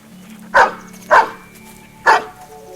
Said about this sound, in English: I'm looking for Mr. Hyder Simpson and a hound dog named Rip